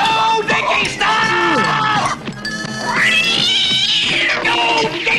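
An animated cartoon cat yowls and caterwauls loudly, with long rising and falling wails and strained meows filling the scene, backed by a noisy crowd-like commotion.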